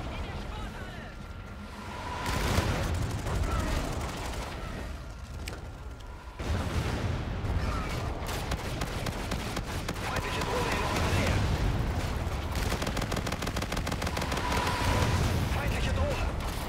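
Gunfire in the video game Call of Duty Infinite Warfare, with bursts of shots and impacts from a multiplayer match that come in dense stretches with brief gaps, mixed with game sounds and heard alongside talk.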